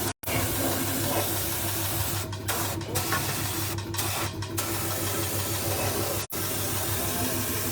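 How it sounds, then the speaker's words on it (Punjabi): A steady, loud hiss of water spraying at close range onto a 350 cc Royal Enfield Bullet motorcycle engine, running continuously with a few brief pauses. "ਇਹਨੂੰ ਪਾਣੀ ਨਾਲ ਸਾਫ਼ ਕਰ ਸਕਦੇ ਆ"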